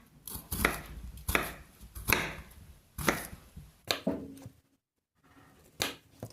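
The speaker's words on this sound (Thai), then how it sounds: "หั่นเป็นชิ้นพอดีคำนะคะ ไม่เล็กไม่ใหญ่จนเกินไปนะคะ" A knife chops bitter melon on a cutting board: about eight sharp, close thuds at an uneven pace, with a short pause before the last ones.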